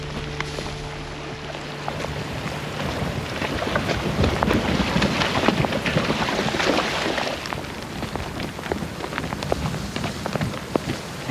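Steady rain patters across surfaces in the Snowy Mountains of New South Wales, a dense, even wash of drops with some wind, continuous and fairly loud throughout.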